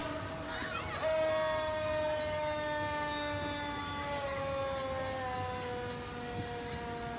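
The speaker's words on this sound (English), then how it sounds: "EMS behind them, the ambulance from the CFD." Ambulance siren from the CFD at the Charleston Christmas Parade, a wailing tone that sweeps up sharply then slowly winds down, moderately loud over crowd noise along the route.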